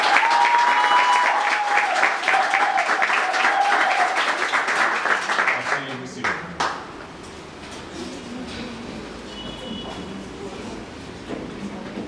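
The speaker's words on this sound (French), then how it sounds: "Acclamation s'il vous plaît." A crowd at a civil wedding ceremony in Cairo, Egypt bursts into loud, steady clapping that fades after about six seconds into scattered claps and murmuring room noise.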